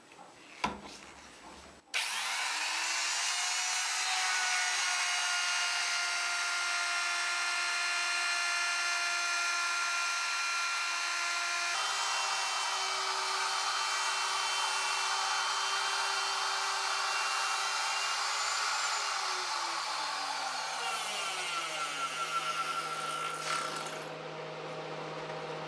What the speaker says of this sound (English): The factory edge on this maple is razor sharp, so I'm just chamfering it with a chamfering bit in my router.